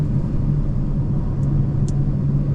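A Porsche Panamera 4 E-Hybrid with all-wheel drive takes a curve, a steady low road rumble and engine hum holding even throughout, with two faint brief ticks high above and no talking.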